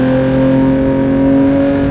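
A Porsche 911 GT3 Touring with a six-speed manual gearbox gives off a loud, sustained engine roar at a steady pitch, close and alone with no talking.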